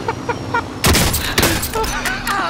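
Gunfire crackles in Modern Warfare, a loud volley of overlapping shots over a busy background with a voice briefly audible.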